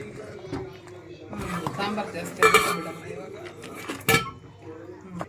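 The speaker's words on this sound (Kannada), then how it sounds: "ಈಗ ಮಿಕ್ಸ್ ಮಾಡೋಣ" Spoon stirring chili powder and spices into mutton head sambar in a metal pot, with scraping and two sharp clinks against the rim, under a person talking.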